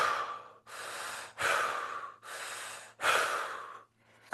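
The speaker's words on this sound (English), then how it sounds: "Take a few breaths." Slow, deep breaths during a seated fascial stretching class, about five audible inhale and exhale cycles close up, soft and airy, with no speech.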